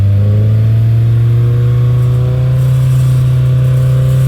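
A loud, close car engine held at high revs and rising toward 4,000 RPM, with a steady powerful drone throughout and no talking over it.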